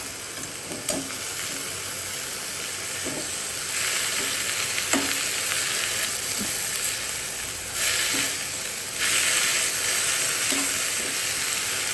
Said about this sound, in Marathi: तेल टाकलं जरासं भुजासाठी.